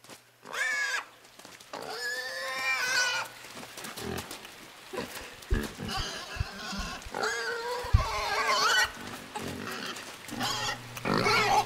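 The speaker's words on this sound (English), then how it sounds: "I'm afraid of the pig!" Pig grunts and squeals from the video game Inside, coming in repeated loud bursts against a muddy, rumbling game soundtrack with no talk.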